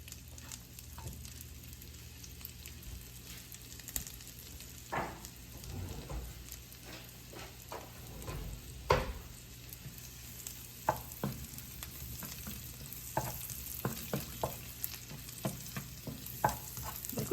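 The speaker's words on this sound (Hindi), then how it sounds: "अभी उसमें बिल्कुल हल्का सा लहसुन को फ्राई करेंगे" Garlic fries gently in oil over a low flame, a steady quiet sizzle broken by scattered small pops and the scrape of stirring throughout.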